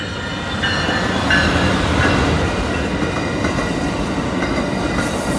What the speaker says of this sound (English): That was a Siemens Charger locomotive on the San Diego bound Pacific Surfliner.